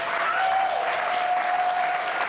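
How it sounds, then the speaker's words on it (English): An audience gives a steady round of applause, dense clapping filling the room for a couple of seconds with a faint tone running underneath. "Round of applause for these two guys."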